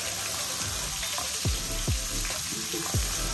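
Sliced onions sizzle in a cup of hot oil with whole garam masala spices for a prawn biryani, a steady close frying hiss broken by a few sharp pops and splutters.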